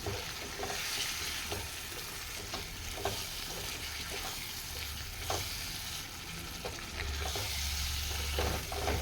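Prawn masala with garlic and tomato sizzles steadily in a pan while being stirred, with a constant frying hiss and occasional soft scrapes and knocks of the spoon.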